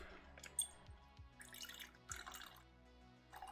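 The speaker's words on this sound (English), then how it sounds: "Just adding a little bit of cold water to my Long Branch whiskey." Cold water trickles and drips into a glass of Long Branch whiskey, a few soft splashes and a brief gurgle spread over several seconds, faint and close with no voices.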